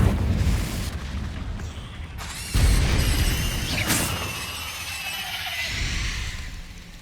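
A Confringo blasting spell explodes in Hogwarts Legacy, with a loud booming burst amid rumbling combat noise, followed by crackling, whooshing magical effects that fade over several seconds.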